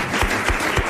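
Studio audience at a French television game show breaks into clapping, with broadband bursts pulsing roughly three times in a second, loud and close, with no voices over it.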